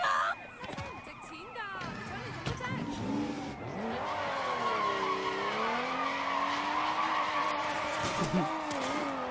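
A stolen car in the video game Sleeping Dogs skids away with long, wavering tire squeals and a revving engine, loud and close, while a voice speaks over it.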